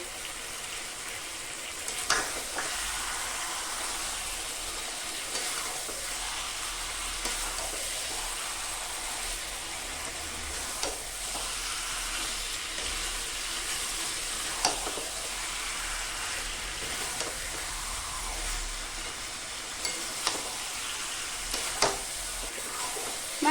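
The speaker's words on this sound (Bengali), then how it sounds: "মাংসটাকে এইভাবে বেশ কিছুক্ষণ ধরে আমি কষিয়ে নেব" Mutton with ground nutmeg and spices is stir-fried over high flame in a pan, giving a steady close sizzle broken by occasional scrapes and taps of the stirring spoon.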